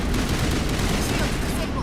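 Sustained video game gunfire in Mass Effect Legendary Edition, a dense, loud fusillade of rapid shots that fills the whole moment, with a voice blended into the din.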